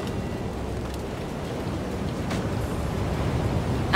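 Stormy weather in Assassin's Creed IV Black Flag, with steady rain hiss and low rumbling thunder filling the scene continuously, swelling slightly toward the end.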